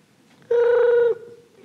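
A human voice imitates a ringing telephone with a single steady, buzzy electronic-sounding tone held for just over half a second, loud and close, set against near silence.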